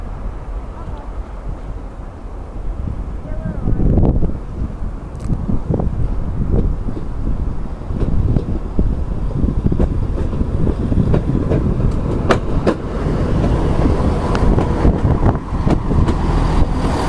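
Class 170 diesel unit 170206 pulls out of Great Yarmouth bound for Norwich, its engine rumble and wheel clatter swelling close by. Someone talks over it at times.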